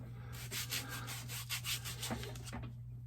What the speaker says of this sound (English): little orbital sander